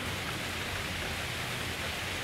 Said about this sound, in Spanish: ha empezado a llover